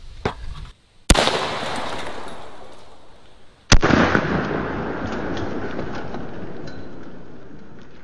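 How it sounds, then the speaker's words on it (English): A Zeus 12 gauge shotgun fires TPP shot shells, two sharp loud blasts a few seconds apart, each followed by a long decaying echo across open ground. "Let's see if I can hit that with that TPP shot shell."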